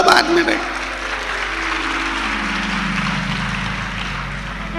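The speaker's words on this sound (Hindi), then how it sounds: "ये ताली बजाने से कुछ नहीं होगा।" An audience at a religious discourse claps, a burst of dense applause that starts loud and then carries on as a steady wash. A voice speaks over it.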